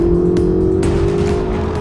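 Engine of a 2016 Ferrari 488 GTB on a road drive, a loud continuous close-up roar holding a fairly steady pitch that rises slightly, with a couple of faint clicks over it and no speech.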